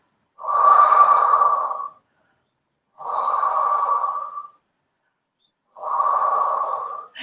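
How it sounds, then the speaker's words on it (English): Three long, deep breaths during a back-pain pilates exercise, each a loud, close, breathy rush lasting over a second, separated by short silences. "Let's take a couple of deep breaths."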